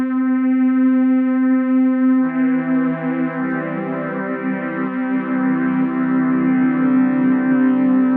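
A Yamaha DX7 synth tone runs with reverse and echo effects in Ableton: a steady harmonic note holds alone and then blooms into a denser, smeared wash of echoing partials, loud and sustained with no talk.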